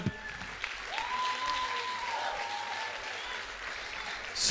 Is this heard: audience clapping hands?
yes